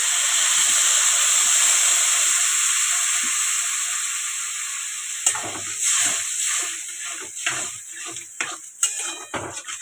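Water hits a hot pan of cooked-down masala with a loud, steady steamy hiss for about five seconds, then fades into scattered clinks and scrapes of a utensil against the pan.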